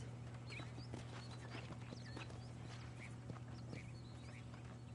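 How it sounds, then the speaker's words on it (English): Horses walk in Red Dead Redemption, their hooves clip-clopping in a soft, irregular patter over a low steady hum, faint and fairly distant. "These are fine horses."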